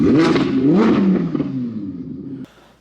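An Audi R8 engine revs hard twice, rising and falling loudly up close, then settles into a steady idle before cutting off abruptly near the end.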